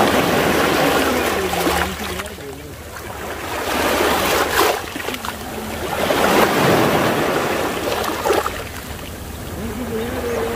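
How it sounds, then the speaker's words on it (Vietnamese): Waves wash onto a rocky, stony shore in a continuous rushing surf that swells and recedes in slow surges, close and loud, while people talk over it. "nghe tiếng sóng vỗ đã thích rồi"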